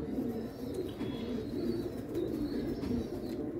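Pigeons coo softly and steadily in a loft, a low throaty burbling that runs throughout under faint background noise.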